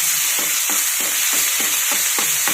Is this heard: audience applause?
no